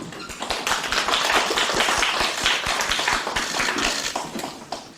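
Applause from a lecture audience welcoming the speaker, dense overlapping claps sustained at a steady level, with a few sharper individual claps near the end.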